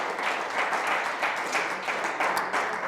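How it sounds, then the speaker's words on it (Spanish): A church congregation breaks into applause, a continuous, fairly loud wash of many people clapping with a slightly uneven rhythm and no voices heard. "Aplausos al Señor."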